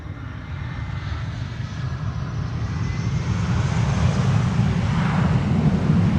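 A Delta airliner landing on the Polderbaan runway at Amsterdam Schiphol, a continuous loud engine roar with wind rush that grows steadily closer and louder, heard alone.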